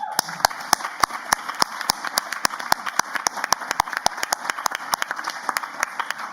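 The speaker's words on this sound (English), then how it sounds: "Give yourselves an applause." Scattered hand claps from a conference audience ring out as sharp, separate cracks at an uneven quick pace, close and crisp over a faint steady room hum, with no voices.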